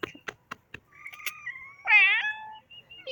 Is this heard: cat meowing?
yes